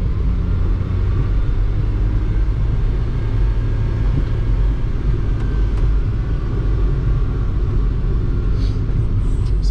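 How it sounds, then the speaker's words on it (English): A 1996 Suzuki kei truck rolls along on a test ride, its engine and road rumble forming a steady, loud low drone heard from inside the cab with no talking. "let's take it for a test ride and see if I can still hear that noise"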